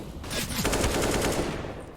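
Rapid bursts of automatic gunfire crackle continuously through a Counter-Strike match on the Train map, dense and loud for the full two seconds as players trade frags.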